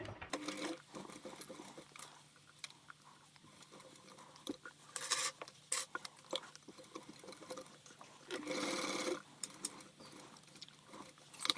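Sewing machine stitching a sling bag strap with a D-ring, quiet and close, in short bursts of rapid whirring separated by pauses and small handling sounds.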